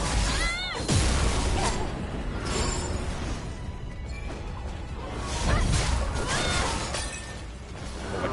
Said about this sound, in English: That was my guard shattering.